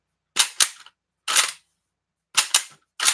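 Sharp gunshot reports from a bolt-action Mosin-Nagant rifle, fired in two quick pairs and a single shot, with clear gaps between as the bolt is worked between rounds.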